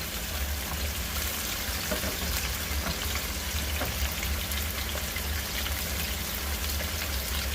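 Salmon fillets pan-fry toward crispness, a steady, dense sizzle and crackle running evenly throughout at moderate level, close by, with no talking.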